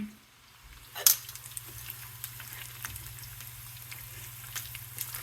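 Sweet tofu frying in a home kitchen pan gives a steady, close hiss and sizzle, with a sharp clatter near the start. A low hum runs underneath and no one speaks.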